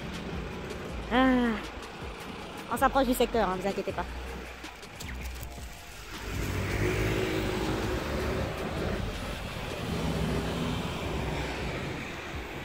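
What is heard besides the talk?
passing truck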